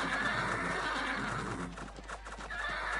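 Horses neigh repeatedly in a strategy video game, with loud whinnies over a busy bed of hoof clatter and battle noise that continues throughout.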